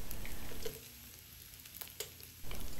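Ginger garlic paste and green chilies fry in hot oil with a quiet, steady sizzle, and a few louder bursts of crackling come and go.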